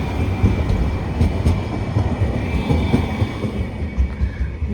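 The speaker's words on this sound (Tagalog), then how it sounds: "Nabagal lang yung tren nila." A train rumbles slowly past on tracks at Pier-2 Art Center in Kaohsiung, with a loud, continuous low churning and rhythmic throbbing close by.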